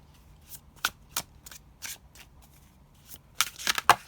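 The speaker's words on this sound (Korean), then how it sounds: "먼저 타로 카드를 뽑아볼게요." Tarot cards are shuffled by hand in short, crisp riffling bursts. They start spaced apart and grow quicker and louder toward the end, close to the microphone in a quiet room.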